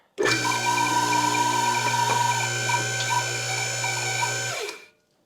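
An electric motor on a newly installed car lift in a garage with a concrete floor hums loudly and steadily for about five seconds, a sustained whining drone with faint mechanical ticks, then stops.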